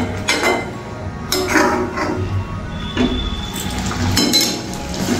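Pre-boiled meat is stirred in a metal cooking pot, with a spoon clinking and scraping against the sides in short bursts over a soft background hiss.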